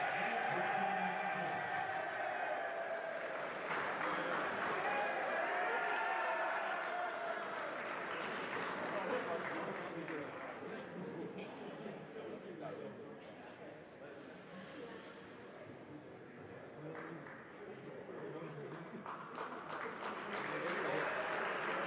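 Crowd applause at a men's college basketball game, St. Lawrence at Durham, honouring graduating trainers: sustained, moderately distant clapping from the stands that swells and fades over many seconds, with an announcer's voice carrying over it.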